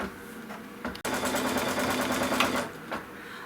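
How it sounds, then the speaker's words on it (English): An embroidery sewing machine stitches tack-down lines on a quilt block, a steady close rapid mechanical whirring that starts abruptly after a brief pause and runs continuously. "So we're going to stitch the tack down lines."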